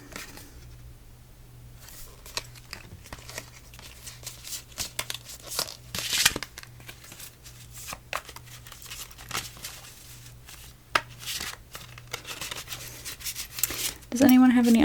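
Multiplication flash cards being shuffled by hand, a close run of papery rubs, crinkles and soft slaps that rise and fall in uneven bursts, ending in a louder flurry.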